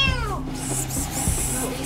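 A kitten stuck at the bottom of a deep water well cries with repeated high, wavering meows. A steady low hum and scattered noises run beneath it.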